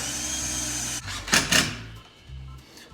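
Impact driver sinking screws into 3/4-inch plywood while building a box: a steady loud whirring drone, then a short burst of rapid hammering impact bursts, followed by another stretch of motor run.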